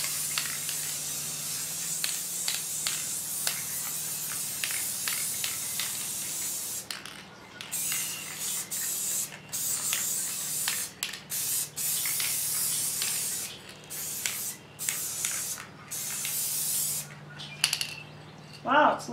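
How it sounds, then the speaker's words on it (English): A spray paint can hisses in a series of short, close bursts with brief pauses between them, over a faint background hum. "Okay, now it is time to paint. And I'm just using spray paint."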